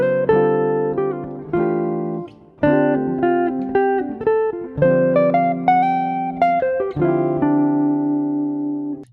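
Clean guitar plays a modal jazz lick built from pentatonic shapes, mixing plucked chords with quick melodic runs in an uneven, flowing rhythm, clear and close with no talking.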